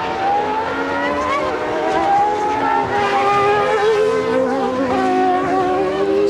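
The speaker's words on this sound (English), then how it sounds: "There's David Coulthard now about to put a move on Michele Alboreto in the Minardi" Formula One cars racing at the 1994 British Grand Prix, with a McLaren-era field including a Minardi being passed: a continuous high-pitched engine wail rising and falling as several cars scream past at speed, loud and sustained throughout.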